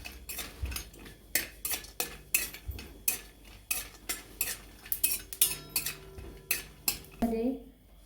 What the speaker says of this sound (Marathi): आता आपण थोडंसं तेल टाकलं त्याच्यामध्ये चक्री फुल भाजून घेणार आहोत